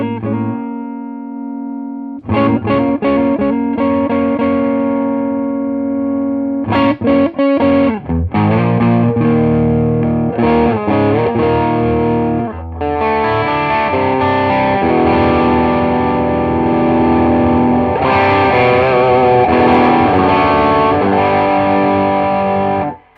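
Electric guitar through a Keeley D&M Drive pedal with the gain down, a warm mid-range boost that is only slightly gritty, strumming chords and picking notes alone, steady and fairly loud.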